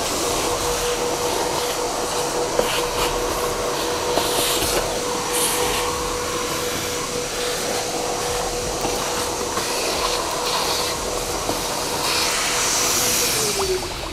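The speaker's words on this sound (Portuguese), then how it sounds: "Então, o aspirador." A vacuum cleaner cleans a Jeep Renegade in a workshop, a steady, loud whooshing drone running the whole time with small bumps and shifts in tone as the nozzle moves.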